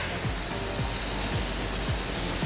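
A hand pump on a compression foam sprayer is worked in steady repeated strokes, each giving a rhythmic thump under a constant hiss of pressurised air.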